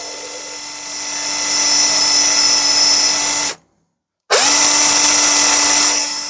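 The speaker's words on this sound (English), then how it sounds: "I'm going to drill about halfway through." A power drill whines at high speed while drilling a pilot hole partway through the material, stops abruptly for a moment, then spins up again loud and close.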